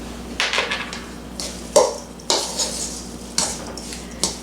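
Ground beef mixed with salt and pepper for Salisbury steak patties gives repeated wet squelching and scraping strokes in a bowl, several close, distinct pushes in an irregular rhythm.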